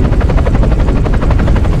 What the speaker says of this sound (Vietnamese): Đây là máy bay trực thăng do ông chủ mới tạo ra đó.